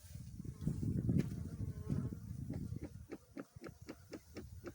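Honeybee colony buzzing inside a hive during a winter inspection, a dense low hum that swells early and then thins, close and steady, with faint clicks and handling noises toward the end.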